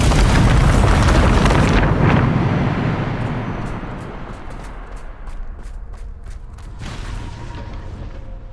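Bombarda spell going off in a video game, a loud booming blast that rumbles and slowly fades, followed by scattered sharp crackles.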